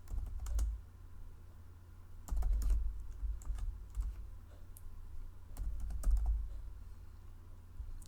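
Code being typed on a computer keyboard during a programming lecture, with bursts of rapid, close key clatter separated by short pauses and no speech.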